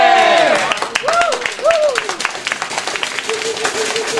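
An event audience claps and cheers, with a few distinct hand claps and voices calling out in rising tones, with talk and cheering mixed over the clapping at fairly close range.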